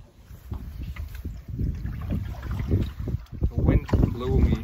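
Gusty wind buffets a canoe out on chilly open water, a rough broadband roar rising and falling throughout with some knocking and splashing near the end.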